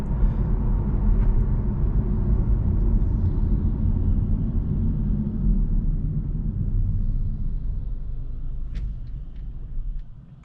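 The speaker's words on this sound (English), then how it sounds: "I don't know if you guys heard, but the car just turned off" A 2024 Honda Civic Hatchback EX-L, front-wheel drive with 180 horsepower, idles at a stop with a low, steady interior rumble that gradually fades as the engine shuts off, leaving near quiet at the end.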